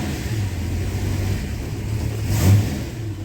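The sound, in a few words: old six-cylinder car driving up the road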